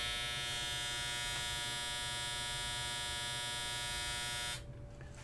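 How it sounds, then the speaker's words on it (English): A washing machine runs somewhere in a home, a steady mechanical whine and buzzing hum that holds at an even level and then drops away abruptly near the end. "that's our washing machine going."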